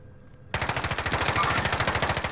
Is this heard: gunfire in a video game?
yes